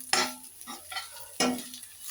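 Boiled moringa leaf fry, Kadapa style, is stirred and reheated in a pan. Two bursts of scraping come about a second apart, each over a soft sizzle that fades between them.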